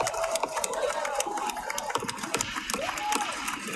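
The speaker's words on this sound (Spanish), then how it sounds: "Ya van a aplaudir por él." A State of the Union crowd applauding and cheering as President Biden enters the chamber, a dense, steady roar of clapping with a voice talking over it.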